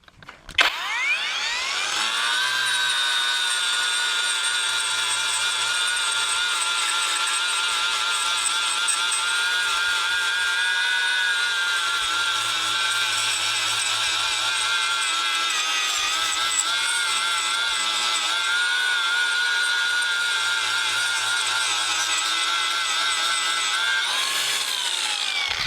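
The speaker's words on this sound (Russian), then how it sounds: "Поэтому смотрим работу болгарки в нормальном режиме." An angle grinder fitted with a cleaning disc and running on a SHIDOKU PRO Makita-size battery spins up, then holds a loud, steady high-pitched whine for over twenty seconds before winding down at the end.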